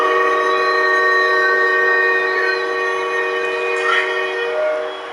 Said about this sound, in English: Here's the train whistle.